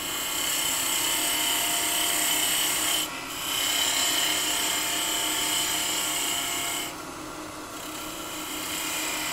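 A skew chisel cuts wood on a spinning lathe, a steady broadband rasping hiss that runs continuously for the whole stretch with two short dips where the cut eases.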